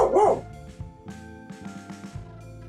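A dog barks close by, one sharp loud bark and then softer whines and yips, with a little talk mixed in.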